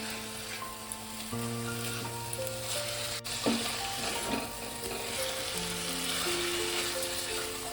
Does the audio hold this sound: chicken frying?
yes